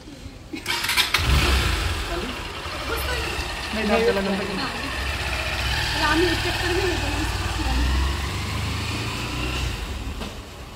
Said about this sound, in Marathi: आणि मस्त गाडीचा एक चक्कर घेऊन आली मी, नव्या गाडीचा एक चक्कर